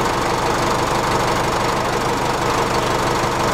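Close, steady knocking diesel idle of a tractor engine running during a battery test, loud and unchanging with no other sounds.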